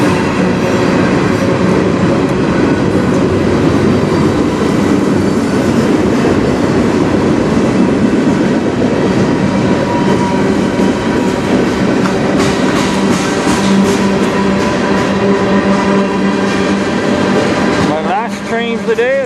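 A CN freight train with hopper cars rolls steadily past at Sarnia, Ontario, a loud continuous rumble with rail clatter and some wheel squeal, ending in a brief quieter gap with a high whine near the end.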